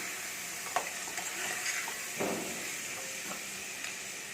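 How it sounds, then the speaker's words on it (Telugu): Mutton trotters (paya) stirred in a gravy pan over steady frying sizzle, with several distinct scrapes and clacks of the spoon spaced through the stretch, close and moderately loud, no talking. "ఇప్పుడు మటన్ కాల్ వేయండి ఒకసారి బాగా కలపండి"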